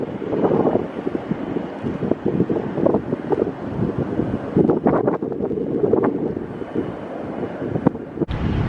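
Loud, continuous wind on a rooftop buffeting the microphone with low rumbling gusts, rough and unsteady throughout with no voices.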